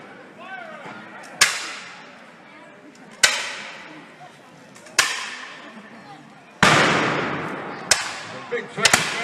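Heavy cannon fire from French and British guns at a historical battle reenactment on a hillside: about six loud, sharp booms at irregular intervals, each trailing off in a long rolling echo across open ground.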